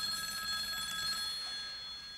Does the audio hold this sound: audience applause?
no